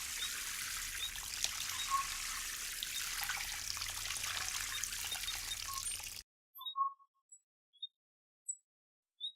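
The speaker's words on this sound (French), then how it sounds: "il faut arroser abondamment son pied avec un arrosoir ou un tuyau d'arrosage" A watering can pours water steadily onto the soil at the base of an uprooted tree, a soft continuous trickle that stops abruptly, leaving a few faint scattered high chirps.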